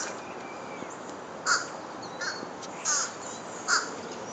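Birds calling outdoors on a winter day: four separate harsh, crow-like caws spaced about a second apart, moderately distant over a soft, steady background hiss.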